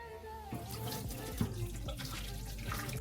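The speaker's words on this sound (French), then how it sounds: "On vient enlever l'eau encore une fois des brocolis." Water from a kitchen tap runs and splashes as broccoli is drained in a sink, a soft continuous rush with a few small clinks, fairly faint and close.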